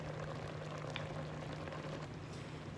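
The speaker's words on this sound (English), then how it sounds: "Bubbling, looks yummy." Peaches cooking down in a pot bubble with a soft, steady simmering crackle, faint and continuous with no talk.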